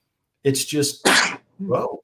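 A single sharp sneeze bursts out between short spoken phrases as someone talks about shooting a 9 major competition pistol, with brief speech before and after it.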